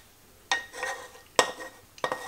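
Metal tongs clink against a plate while lifting tagliatelle carbonara with pancetta across, three sharp close taps with soft scraping and sauce shuffling between them.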